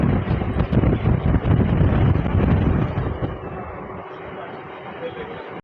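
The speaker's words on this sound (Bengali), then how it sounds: "হাওয়া" Strong wind rushing past a moving Katwa–Bardhaman local train, loud buffeting gusts that ease toward the end, with voices in the background.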